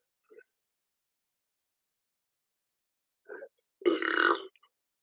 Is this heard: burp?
yes